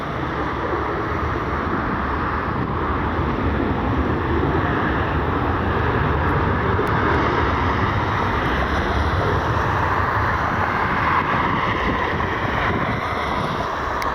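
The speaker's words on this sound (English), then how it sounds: "On the other runway, Alaska 216. We'll try to pick it up here in a minute. 737 heading back to Seattle." An Alaska Airlines Boeing 737 jet at an airport, heard as a loud, steady broadband roar that holds throughout, with heavy wind noise on the microphone and no talking.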